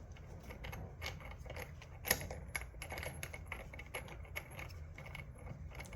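A puller tool being threaded onto the magneto of a Yamaha YZ250F, quiet metallic ticks and small clicks with one sharper clink midway, close by and faint, without speech.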